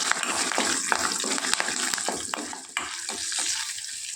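Lentils and onions fry in a pan for a ridge gourd and tomato chutney, giving a steady close sizzle with small pops and clicks of stirring scattered through.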